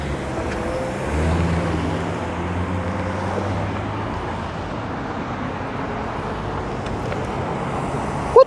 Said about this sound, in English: There's a car coming right now.